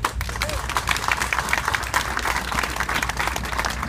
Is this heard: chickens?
no